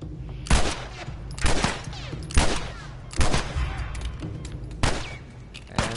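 Gunfire in The Last of Us: six or so sharp, loud shots spaced roughly a second apart, each with a short decaying tail, over a quiet background.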